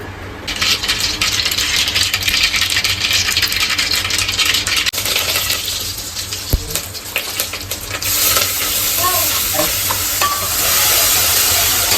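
Masala goes into a hot pan and is stirred, a loud close sizzle with scraping and a sharp clink midway, frying on steadily and growing brighter toward the end.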